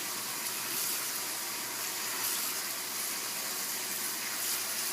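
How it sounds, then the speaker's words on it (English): Noodles rinsed under a steady stream of running tap water, a continuous even gush with no talking. "so we're going to rinse off these noodles"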